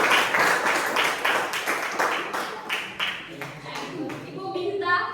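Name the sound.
class applauding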